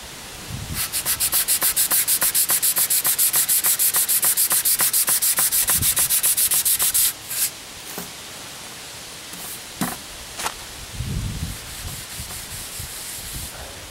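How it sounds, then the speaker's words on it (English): Rapid, even back-and-forth rasping of a fine sanding block rubbed by hand over wood, loud and close for several seconds, then a few scattered scrapes and handling noises. "Now I'm switching from the vibrating sander to a much finer sanding block and continuing by hand."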